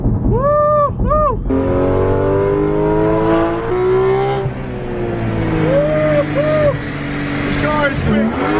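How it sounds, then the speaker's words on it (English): Porsche GT3 RS sports car with a roll cage, engine revving and accelerating loudly in a high rising whine, heard from inside while people whoop and talk over it. "So right now I'm in the Porsche GT3 RS."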